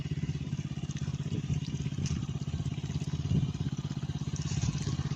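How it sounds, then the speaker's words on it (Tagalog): A small engine drives an irrigation water pump watering a sweet potato field, chugging in a steady, rapid rhythm close by. Faint clatter rides over the running engine. "tingnan po natin kung ano yung ginagamit nilang makina sa pagpapatubig"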